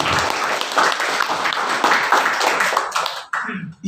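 A church congregation applauds loudly and steadily for a few seconds during a worship service, then the clapping breaks off abruptly.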